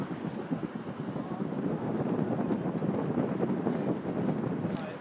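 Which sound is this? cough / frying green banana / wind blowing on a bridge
wind blowing on a bridge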